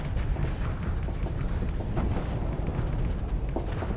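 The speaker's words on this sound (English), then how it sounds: "there's a lot of explosion, but you know, the explosion sounds build character" Dense, continuous rumbling explosions and booming blasts from a space combat battle in the video game Starsector, loud and layered with no pauses across the whole stretch.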